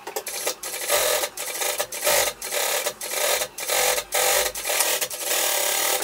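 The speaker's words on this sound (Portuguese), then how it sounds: "Então eu vou costurar em cima do forro" A sewing machine stitches a seam through main fabric and lining for a girl's coat with pleats, running in short loud bursts separated by brief pauses.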